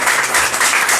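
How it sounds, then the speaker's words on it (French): A dense burst of audience applause, steady and moderately loud, with continuous clapping throughout the short moment. "On applaudit encore."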